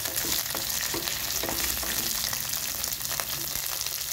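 Poha upma ingredients with ginger sizzle steadily in a hot pan while stirred, with a constant loud frying hiss and faint scraping.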